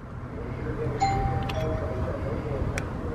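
A Nest video doorbell chime rings once at home, a clear single electronic tone sustained for about a second, followed by a couple of faint clicks over low background noise.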